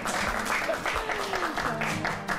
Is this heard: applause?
yes